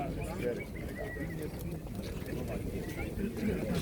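Pigeons coo softly amid a busy, chattering crowd at a pigeon market in Radom, with voices and background bustle continuous throughout.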